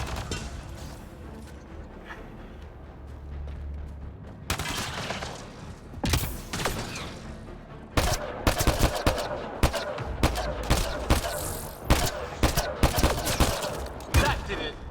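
Gunfire from a player's gun in the Mass Effect video game, in sporadic bursts and rapid volleys that grow denser and louder partway through, with sharp close cracks over a low rumbling background.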